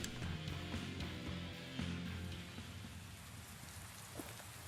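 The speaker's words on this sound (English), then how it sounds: "It's raining." Steady rain in the video game Tales of Berseria patters on a surface, with a low rumble underneath, continuous and fairly soft with no talking.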